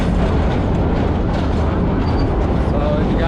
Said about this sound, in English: we're like 5 minutes into this train ride